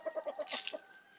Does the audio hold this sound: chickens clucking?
yes